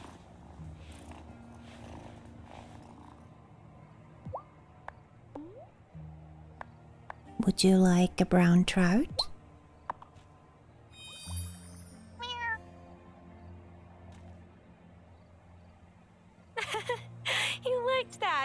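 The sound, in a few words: cat purring and meowing in video game Wylde Flowers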